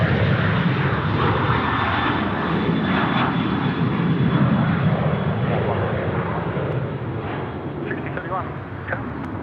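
A Boeing 787 lands on runway 34 right at Sydney Airport, its engines a loud, steady broadband roar that fades slightly toward the end while a voice talks over it.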